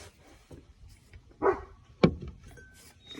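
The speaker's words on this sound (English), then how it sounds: "dog's barking, you guys, sorry" A dog barks twice in a room, two sharp separate barks about half a second apart, fairly close and loud against a quiet background.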